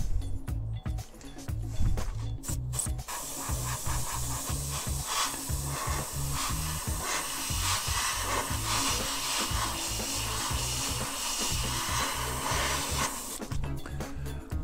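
Spray gun misting a low-sheen finish onto the vinyl top of a scale model Charger, a steady continuous hiss lasting about ten seconds between brief handling noises at either end, loud and close, with no talk.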